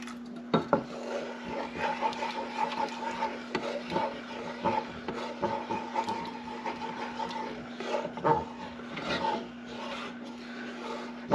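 A spoon scrapes and stirs a thick baked mac and cheese mixture in a pot, with irregular close scraping and clinking over a low steady hum and no talking.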